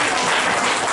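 An audience at a musical program claps together in loud, dense, continuous applause throughout the short moment.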